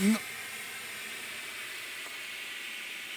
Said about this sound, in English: So that safety is lifting at about 110 pounds per square inch.